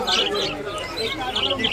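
Caged birds chirp and tweet in short bursts at a bird and pet market in Shrirampur, with a crowd-like murmur of voices beneath them.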